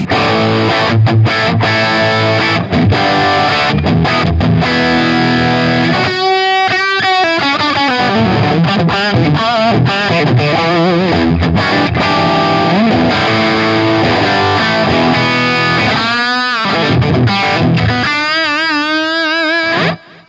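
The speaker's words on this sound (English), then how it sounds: "the bridge humbucker, it sounds like this" Heavily distorted electric guitar on its bridge humbucker through a 1983 Marshall JCM800 50-watt amp plays a continuous run of crunchy chords and riffs, loud and saturated throughout, with no talking.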